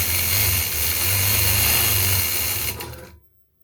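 A sewing machine runs steadily while quilting an all-over pattern, giving a continuous motor whir that stays loud and close for about three seconds before it stops abruptly and falls silent.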